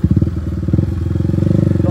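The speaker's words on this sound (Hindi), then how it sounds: "बाइक तेज चला नहीं सकते" A motorbike engine thrums with a steady, rapid pulsing as the bike rides along a cold night road with water overflowing across it, loud and close throughout.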